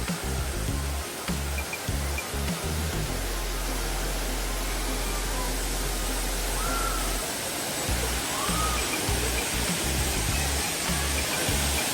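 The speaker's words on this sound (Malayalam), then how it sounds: "അടിപൊളി വെള്ളച്ചാട്ടം ഒരുപാട് ആൾക്കാർ കുളിക്കുന്നുണ്ട്" Thusharagiri waterfall in Kozhikode, with people bathing in it, gives off a steady, dense roar of falling water that holds constant throughout, over a low rumble.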